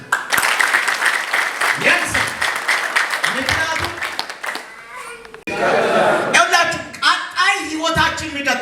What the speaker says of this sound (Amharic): ለጌታ ክብር በደንብ አድርጋችሁ አጨብጭቡ።